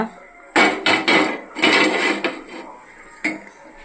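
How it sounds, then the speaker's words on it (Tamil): Heavy metal clanks and knocks as an iron dosa griddle is set down and shifted on a stovetop, several loud bangs close by, then a final clunk. "தோசைக்கல் வச்சுக்கலாங்க."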